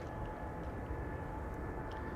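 An airliner taking off at Amsterdam Schiphol Airport, a faint, steady, distant engine roar with no talk.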